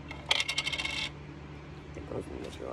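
A small toy coin drops into a toy drawer, giving a quick run of bright metallic clinks and rattles for about a second, then a quiet shuffle.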